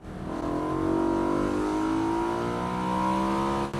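A V8 BMW M3 convertible accelerates with a steady, rising engine note that holds loud and close from inside the car, a smooth climbing drone with no talk.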